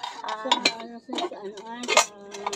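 A set of metal spoons and forks clink together in short, sharp bursts, with people talking nearby.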